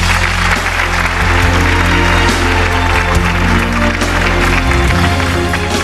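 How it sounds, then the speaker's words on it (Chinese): A studio audience on a Chinese talk show breaks into loud, sustained applause to welcome a guest onto the stage, dense clapping filling the whole stretch. "我们掌声有请"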